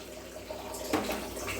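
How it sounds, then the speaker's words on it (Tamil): A cup of water poured into a cooking pot of lentils with turmeric and asafoetida for pongal, a brief soft splashing pour close by, no voices. "ஒரு கப்பு தண்ணி ஊற்றி வேக வச்சு எடுத்துக்கலாம்"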